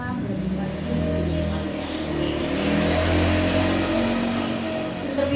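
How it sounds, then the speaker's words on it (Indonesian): A motorcycle passes by outside, its engine a steady mid-pitched drone that swells and fades gradually over several seconds, under a continuous noisy background. "ada motor lewat"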